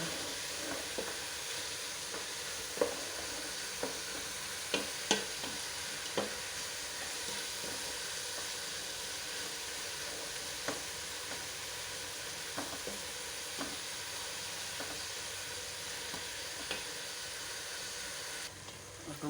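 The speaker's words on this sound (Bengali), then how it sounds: "এখন ভালোভাবে কষে নিচ্ছি" Onion, chopped ginger and green chili sautéing in a pan, a quiet continuous sizzle and hiss with scattered faint clicks and scrapes of a spatula stirring.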